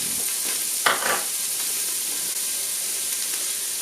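Garlic fries in a pan for chicken gizzard curry, giving a steady, close hiss of sizzling with a brief louder flare of spitting near the start and no talking.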